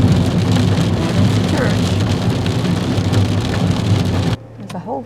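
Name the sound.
rain falling outdoors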